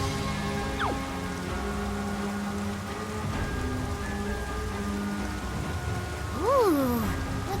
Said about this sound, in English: It just started pouring all of a sudden.